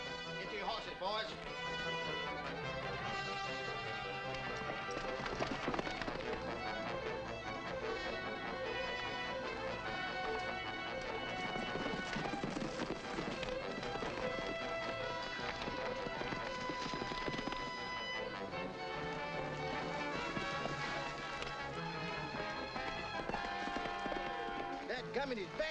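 Hooves of horses clip-clop at a fast gallop over a dense, continuous music score in a 1945 Western film, steady and loud throughout.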